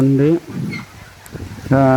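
Ducks at a farm nest beside a pond give loud, close, honking calls at the start and again at the end, with softer rustling and scattered low sounds in the gap between.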